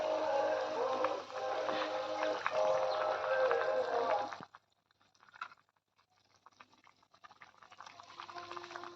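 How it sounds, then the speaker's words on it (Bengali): Water boils in a pot for a rohu fish curry, making a dense, close bubbling rumble for about four seconds before it drops abruptly to near quiet, leaving only faint scattered sounds. "জলটা কিন্তু ফুটে উঠেছে ভালো"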